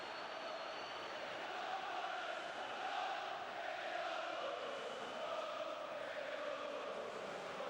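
Huge stadium crowd of over 77,500 at the 1998 League Cup final between Chelsea and Middlesbrough, a dense distant roar that swells and holds steady throughout with no clear single voices.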